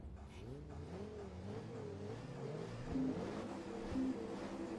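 A Ford Focus in Forza Motorsport 2 revs its engine, the tone rising and falling in repeated sweeps over a steady mechanical drone, with two brief sharp accents near the end.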